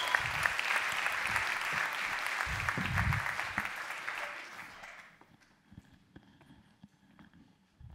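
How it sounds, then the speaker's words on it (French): An audience at a new economy forum gives a speaker a loud round of applause that fades out after about five seconds, leaving a quiet room with scattered small sounds. "Je vous demande d'applaudir Jean-Damien Beau"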